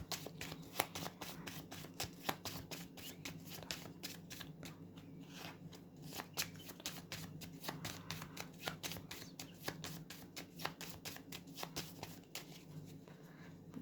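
A deck of playing cards is shuffled again and again, crisp riffling bursts repeating steadily and close by over a low background hum, with no talking.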